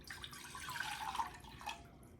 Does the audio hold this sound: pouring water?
yes